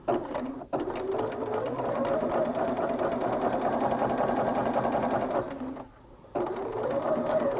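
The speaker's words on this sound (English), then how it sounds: "Take the block back to your machine and let's sew those 2 rows together." A sewing machine runs steadily, stitching two rows of a quilt block together, close and loud, with one brief pause before it starts up again.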